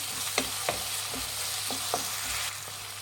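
Mint leaves stir-fried in oil for a mint green chilli chicken gravy, a steady close sizzle broken by several sharp scrapes of a spoon against the pan.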